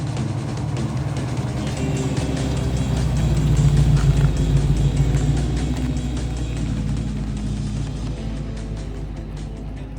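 Car driving along the Monaro Highway toward Cooma, a steady interior road roar and engine drone that swells slightly mid-way and holds constant throughout, with no talk.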